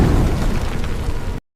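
A loud explosion effect with a dense, rumbling roar that holds steady for over a second, then cuts off abruptly.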